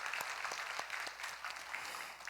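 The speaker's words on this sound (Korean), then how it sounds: "박수해 주시기 바랍니다." A Korean church congregation claps during a special dawn prayer service, with faint, distant applause made of sharp individual claps that continues throughout.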